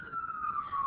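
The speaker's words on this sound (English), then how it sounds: "Oh, there's a siren." A wailing emergency siren sounds in downtown Baltimore, a single steady tone that slowly falls in pitch across the moment, moderately loud over faint background noise.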